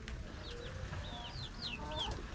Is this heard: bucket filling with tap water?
no